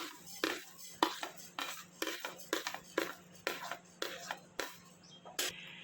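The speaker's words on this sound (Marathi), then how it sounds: "ही डाळ भाजून घेऊया" Lentils are dry roasted in a pan for a South Indian pudachi chutney, with a metal spatula scraping and clinking against the pan in quick, irregular strokes close by.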